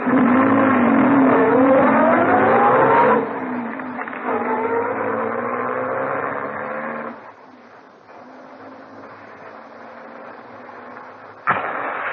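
A vintage car in a Sherlock Holmes radio drama pulls away, its engine revving loudly up through the gears and then fading to a lower drone as it recedes, with a brief clunk near the end and no speech.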